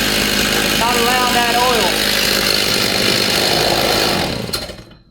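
Stihl MS 290 chainsaw revving hard in a repair shop, its bar and chain not getting oil; a loud, close, sustained engine roar under a voice, winding down at the end.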